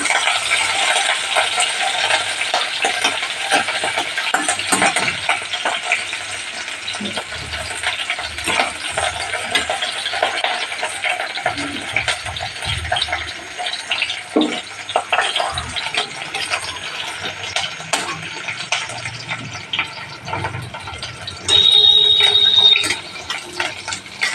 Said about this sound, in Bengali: পেঁয়াজটা দেবো পেঁয়াজটা হালকা করে ভেজে নেবো একটু বাদামি কালার হবে